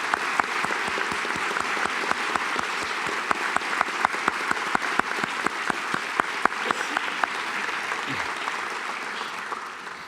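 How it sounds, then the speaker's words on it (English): Sustained audience applause at an alumni awards ceremony honoring past awardees, many hands clapping steadily and fairly close for about ten seconds with no talk over it. "let's take a moment to applaud our past awardees for their great contributions"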